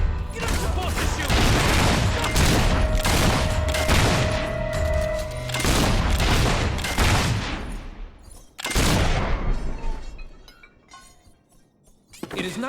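Rapid bursts of gunfire in the video game Fable III, loud, dense volleys for several seconds with a brief lull, then a final sharp burst; some voices are mixed in beneath the shots.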